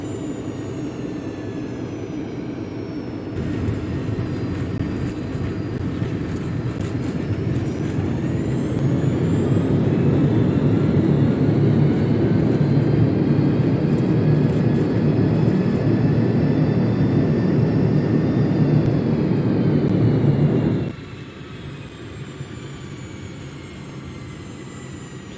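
Simulated DC-10-30 airliner landing in Flight Simulator X, a steady loud engine roar and rushing whir that swells early, holds, then drops sharply near the end as the jet slows.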